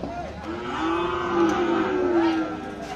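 Cattle at the Hazratpur cow market bellow, one long drawn-out moo rising and falling over a couple of seconds, fairly near, with faint crowd murmur behind.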